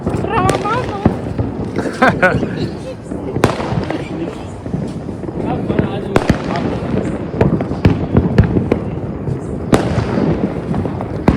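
Diwali firecrackers burst again and again, sharp cracks and pops at close and middle distance, with fireworks crackling continuously under people talking and cheering.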